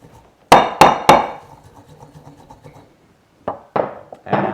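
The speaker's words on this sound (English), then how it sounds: "You always add a little bit of salt in there with your spices just to give a bit of texture to grind them up with." Spices and salt are pounded in a mortar with three sharp, loud strikes, followed by quiet grinding and scraping, then a few more knocks near the end.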